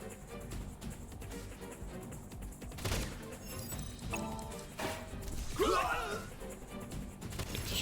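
Rapid gunfire and ricocheting bullets in AI: The Somnium Files – nirvanA Initiative, bursts of shots and sharp impacts mixed with game music and effects at moderate loudness.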